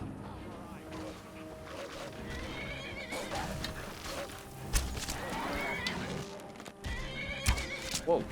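A horse whinnies and hooves clop amid busy game background sounds near High Hrothgar in the video game Skyrim Special Edition, with occasional louder bursts near the end.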